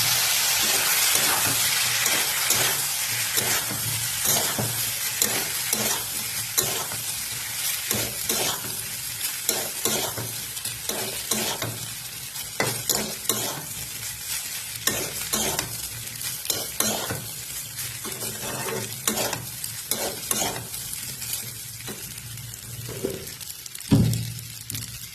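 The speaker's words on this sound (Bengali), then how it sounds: "দেখতে পাচ্ছ এখন আমি নাড়াচাড়া করে একটু ভাজবো একটু" Pasta with salt and turmeric being stirred and fried in a pan: a steady sizzle under repeated scraping strokes of the spoon against the pan, close and continuous.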